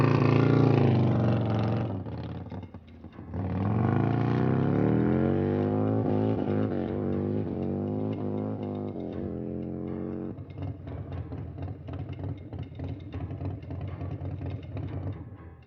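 Harley-Davidson motorcycle engine on a 175 mph speed run, loud and close: a steady drone that climbs in pitch through several gear changes, dips briefly around the second mark, then holds a rough, fluttering high-rev roar to the end.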